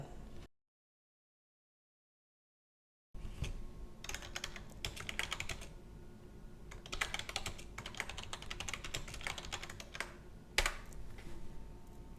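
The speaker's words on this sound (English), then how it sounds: "Type in my password." Keystrokes on a computer keyboard as a password is entered, a steady run of close, clicky taps in bursts after a brief silence at the start, with no voices.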